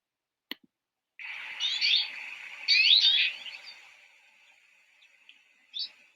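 A faint, high-pitched rushing and whistling from an avalanche recording rises and fades over several seconds, preceded by a sharp click and ending with a brief chirp-like burst.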